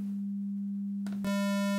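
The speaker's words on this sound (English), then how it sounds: "So we got sine wave" A steady pure sine test tone from a signal generator hums alone at a constant pitch for about a second, then gives way to a brighter, buzzier tone.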